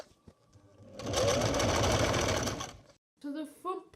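A sewing machine stitches a folded edge on a jacket, a close steady whirring run of about two seconds between quiet handling, followed by a person speaking.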